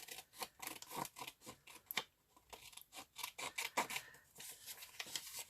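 Scissors snip steadily around a printed paper cutout, a close run of quick crisp cuts with short pauses, quiet and alone with no voices.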